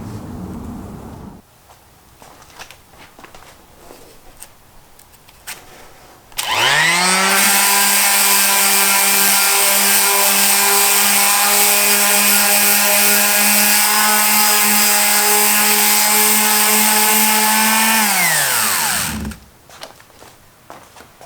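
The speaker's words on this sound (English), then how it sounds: "150 grit. See if that works. That's what's on the sander." Power sander fitted with 150 grit sandpaper starts up on the steel surface of a Bayou Classic 28-inch griddle, holds a loud, steady high-pitched whine for about twelve seconds, then winds down, with quiet handling noises before and after.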